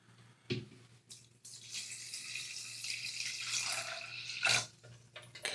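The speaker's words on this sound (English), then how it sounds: "So we're going to put our coin in with about 4 cups of water," Warm water, about four cups, pours into a magnetic pin tumbler used for polishing an engraved brass coin, a steady splashing run close by that swells briefly near the end, with no talking.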